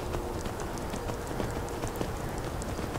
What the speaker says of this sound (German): Und mit dem Pferd mache ich mich auf nach Himmelsrand.